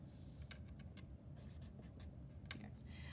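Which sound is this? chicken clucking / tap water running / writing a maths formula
writing a maths formula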